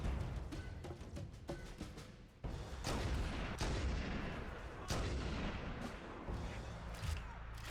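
Gunfire from a weapon in the video game Halo rings out in rapid repeated shots with sharp booming cracks, loud and close, with a brief pause partway through.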